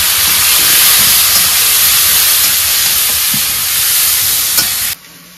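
Ginger, garlic and tomato fry in a pan with a loud, steady close-up sizzle and hiss, broken by a few stirring clicks before the sound cuts off abruptly near the end.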